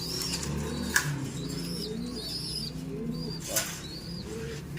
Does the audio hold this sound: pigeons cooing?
yes